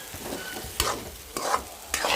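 Bitter gourd in peanut paste fries in a pan, a soft continuous sizzle broken by three sharp scraping strokes of a spoon stirring through it.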